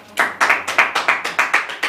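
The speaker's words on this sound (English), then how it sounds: "clap for that." Eight sharp, evenly spaced claps ring out close and loud at a rapid steady tempo, each with a brief decay, from a small audience at a comedic mock presidential debate.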